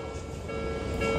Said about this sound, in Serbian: Još jedan voz. Znači čim prođe voz,